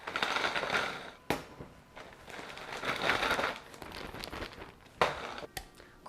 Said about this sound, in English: Crush these cookies into smithereens, or until crumbs form.